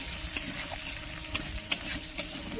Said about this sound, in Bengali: খুব ভালো করে মশলাটা কষিয়ে নেবে